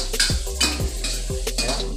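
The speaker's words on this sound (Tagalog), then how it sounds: "Isayin muna ang sahog." Sautéing ingredients in a pot: a ladle stirs and scrapes against metal in repeated strokes over a low, steady sizzle of frying, close by.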